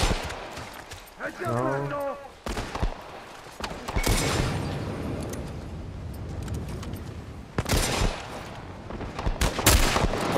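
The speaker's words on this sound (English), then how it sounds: "Let me use my rifle." Rifle gunfire in The Last of Us Part I rings out as several sharp, loud shots spread across the moment, with a brief spoken word and other game sounds between them.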